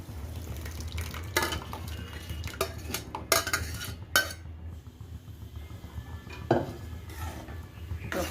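Mashed toor dal with tomato being stirred into a tempering in a pan, a spoon scraping and clinking against the metal in scattered bursts over a low steady background hum.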